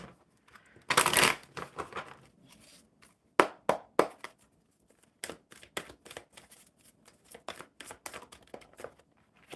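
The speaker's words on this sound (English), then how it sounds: "One more shuffle because we haven't used these yet." Tarot cards being shuffled by hand: a dense riffle burst near the start, then a string of crisp, separate snaps and flicks as cards are handled, close and fairly quiet with no talking.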